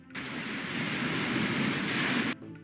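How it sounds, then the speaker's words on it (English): Beach wave ambience from the video game Keep Talking and Nobody Explodes plays as a steady surging wash of surf that swells for about two seconds and then cuts off abruptly. "Yes, that is the beach."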